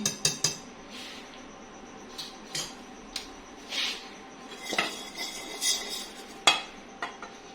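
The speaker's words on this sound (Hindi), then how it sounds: "इस तरीके से अच्छे से ये मैं बाउल से निकाल लूंगी इसको" Chocolate cake batter is scraped from a bowl into a baking mould: a series of irregular metal scrapes and clinks against the bowl, fairly close and without talk.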